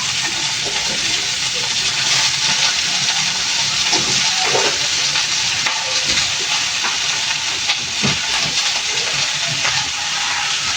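Steady loud sizzling and hissing of crab frying in a hot pan with onions for adobo, continuous throughout with faint clinks.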